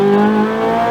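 A Ferrari F430 accelerating around a Las Vegas track, its engine a loud, steady high-pitched drone with strong harmonics, rising slightly through one continuous second, no voices.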